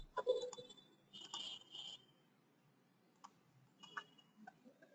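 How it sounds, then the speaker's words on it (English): Computer keyboard typing comes in a few quick bursts of light clicks separated by pauses, close and fairly quiet against a silent room. "I am directly typing them"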